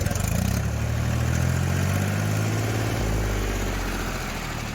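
A 2007 Mahindra B 275 DI tractor engine runs loudly close by, a continuous low rumbling chug that holds steady throughout.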